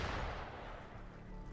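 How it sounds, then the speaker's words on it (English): Distant, muffled gunfire in the video game Wuthering Waves: a brief rumbling burst of shots that fades quickly, fairly quiet and with no one speaking. "Gunfire! We've got intruders."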